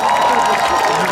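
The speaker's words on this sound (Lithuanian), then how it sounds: "Ploja tie, kas yra vyresni negu 15 metų" Festival crowd members older than 15 clapping at a Joninės midsummer celebration in Elektrėnai, producing a dense, steady wash of applause for just over a second with voices mixed in.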